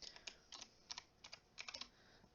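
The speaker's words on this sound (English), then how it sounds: "you want to go over to a new tab and just type in Fortnite" Fingers typing on a computer keyboard nearby, quick bursts of crisp key clicks in irregular clusters, quiet and with no one talking.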